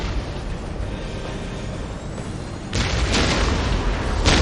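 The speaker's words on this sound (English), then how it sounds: "We will silence that Orc artillery." Orc artillery fire and explosions rumble through a Warhammer 40K: Dawn of War battle scene, a dense low roar that swells into a louder, harsher burst of blasts in the last couple of seconds.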